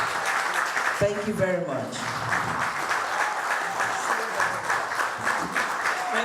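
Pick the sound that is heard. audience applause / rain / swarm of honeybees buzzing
audience applause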